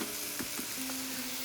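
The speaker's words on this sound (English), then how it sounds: "we're gonna saute this up until the mushrooms are cooked" Thickly sliced mushrooms and garlic sautéing in a pan, a dense steady sizzle with a couple of light utensil taps and a faint tonal hum, close and brief with no talking.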